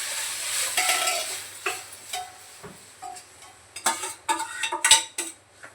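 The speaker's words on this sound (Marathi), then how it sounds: "जरासे फोडणीमध्ये थोडंसं डाळीचं पाणी घातलं, छान असं तडका बसतो." Dal water is poured into a hot Marathi-style tempering in a pan, giving short sizzling bursts and spoon-against-pot clinks spread over several seconds, close and fairly quiet.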